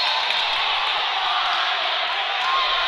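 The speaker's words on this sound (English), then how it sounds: "And the crowd reaction says it all." Steady roar of a crowd at a Lake Central versus GWS high school basketball game, a dense, continuous wash of voices filling the gym, with no distinct pauses.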